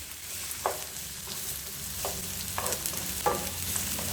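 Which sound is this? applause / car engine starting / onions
onions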